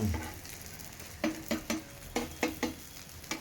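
A cheese egg roll frying in a little oil in a pan, with a steady soft sizzle broken by several sharp scrapes and stirring knocks from a spatula, close and clear.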